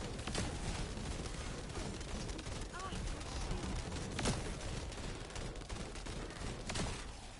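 Rapid bursts of gunfire in The First Descendant, sharp repeated shots crackling steadily through a busy battle, with people talking over the shooting.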